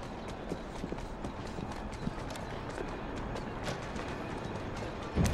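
Rapid hoofbeats clop steadily over a dense background, a horse moving at pace in the video game Assassin's Creed Syndicate, with a thump near the end.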